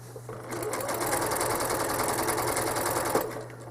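A home sewing machine machine-quilts a Fenced In Cutie quilt, running in one steady, loud, continuous whir of rapid needle strokes for a few seconds before easing off, with a low motor hum underneath.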